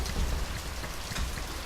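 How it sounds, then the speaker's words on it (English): Steady rain falls in the whaling game Nantucket, a dense, even hiss of drops on a surface with low rumble beneath, continuous and fairly close throughout with no voices. "Now it's raining today."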